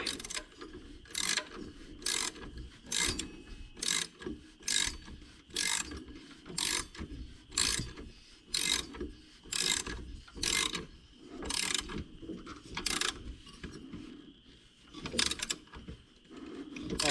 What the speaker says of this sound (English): Then we can grab our ratchet and wrench